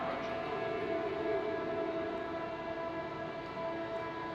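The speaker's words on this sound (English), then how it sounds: "You should be able to see the train pulling in." A train pulling into a station in the Star Citizen video game, a steady sustained tonal hum and drone over low rumbling machinery, fairly quiet and continuous with no voices.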